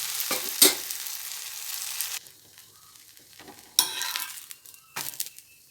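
Onion uttapam fries on a pan with a soft sizzle, broken by a few sharp scrapes and clinks of a spatula on the metal, with quiet gaps between.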